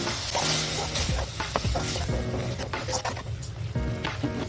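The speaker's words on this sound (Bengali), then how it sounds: "মশলাটা যেন না জ্বলে যায় তার জন্য আমি এখানে দিয়ে দিচ্ছি খানিকটা জল" A splash of water hits frying spices with coriander powder in a hot pan, setting off a loud, crackling sizzle with scraping stirs and pan clatter throughout, no speech.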